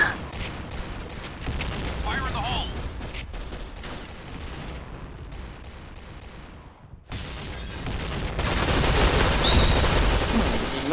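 Gunfire from the Point Blank video game rattles in dense, continuous bursts, loud and close, with a brief gap before a brighter, heavier stretch of shooting near the end.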